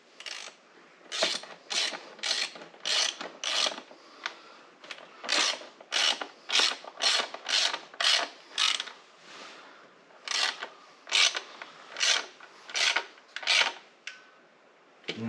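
A ratchet clicks in repeated bursts while snugging down the PCV valve cover bolts on an engine, close and crisp, with short pauses between strokes of the handle.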